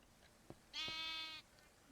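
A sheep bleats once in a Minecraft modpack game, a single loud, steady, buzzing bleat lasting about two-thirds of a second, with a couple of soft clicks just before it.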